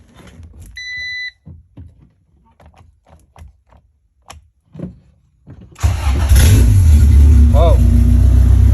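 An EF hatch engine with a push-start ignition cranks and fires at once, settling into a loud, close idle after a short series of beeps and clicks, with people talking before and over it.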